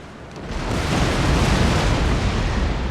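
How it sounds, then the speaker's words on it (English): A ship explodes in a naval battle in Empire: Total War, a loud, dense roaring blast that builds within half a second and holds for several seconds. "That explosion severely damaged my ship."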